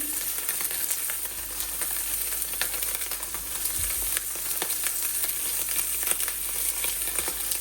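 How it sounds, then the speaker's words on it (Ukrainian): Pork ribs frying in a hot pan in their own fat with no oil added, a loud, continuous crackling sizzle with scattered pops, close up and steady throughout. "І зараз я закладаю наші ребра на пательню. Їх нам треба гарно обсмажити."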